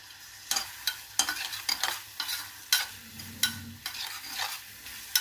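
Onions fry with a pinch of salt in a pan as a spoon stirs them, making regular scraping strokes over a steady close sizzle, with no voices.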